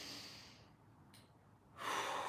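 Deep breathing in a mobility workout session: a soft exhale tapers off into near silence, then a strong, close inhale or breath rush rises at the end.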